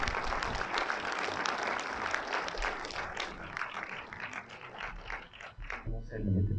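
An audience at a cinema event claps for a guest, a close, uneven burst of individual hand claps that thins out and fades near the end as a voice and some handling noise come in.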